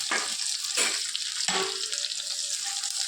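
Ginger and onion sautéing in a pan, a steady close sizzle of frying throughout, with a few louder stirring scrapes breaking through the hiss.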